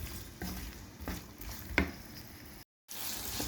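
Onions sautéing in about half a tea glass of olive oil for fava, with steady sizzling and occasional stirring scrapes in a pan, one sharper clatter near the middle and a brief dropout near the end; no talking.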